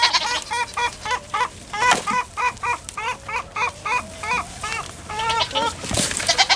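A big goat gives loud, close bleats, short wavering calls repeated in a fast, steady run.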